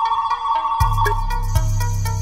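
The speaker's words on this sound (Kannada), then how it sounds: "ಅವತ್ತು ರಾತ್ರಿ ನನಗೆ ಬೀಗರ ಕಡೆಯಿಂದ ಒಂದು ಫೋನ್ ಬಂತು" A mobile phone rings with an incoming call at night: a melodic electronic ringtone of bright, repeating tones, joined partway through by a steady low hum, with no voices.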